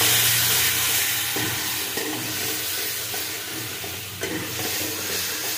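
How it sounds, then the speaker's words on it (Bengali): Tomatoes being stirred with a little turmeric in a frying pan for chutney: steady close sizzling and hiss with scraping spoon strokes, a few sharper knocks against the pan, no talking. "যতক্ষণ পর্যন্ত টমেটোটা নরম না হয় আমি ততক্ষণ নাড়তে থাকবো।"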